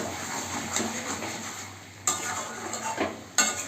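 Mutton korma being stirred and sautéed in a pan with turmeric and salt, giving a soft steady sizzle with scraping spoon strokes and a few sharper clinks of utensil against the pan, close by.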